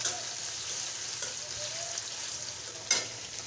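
Prawns fry in a pan during a home-style bottle gourd and prawn curry, giving a faint, steady hiss of sizzling oil with one brief sharper crackle near the end.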